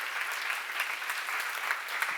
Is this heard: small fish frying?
no